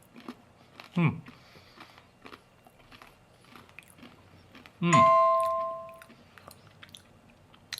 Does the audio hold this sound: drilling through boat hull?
no